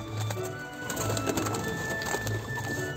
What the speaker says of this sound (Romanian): Păsărele zâmbărețe, wow!